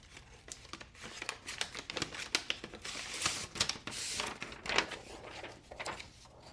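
Blade of a T.W. Price Dawn V1 folding knife slicing thick Amazon Basics copier paper, a close, quiet series of crisp rustling and crinkling strokes in irregular rhythm.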